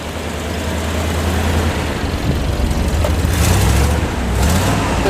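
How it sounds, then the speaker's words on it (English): A 1965 Lincoln Continental's 430 V8 with factory dual exhaust idles smoothly and steadily, a close, continuous low rumble with no talk over it. "It's a nice, smooth running little 430."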